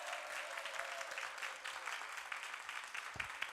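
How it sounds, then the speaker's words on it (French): An audience claps at a television show, applause filling the room as a steady, even patter from start to finish with no voices over it. "Qu'on va applaudir très fort"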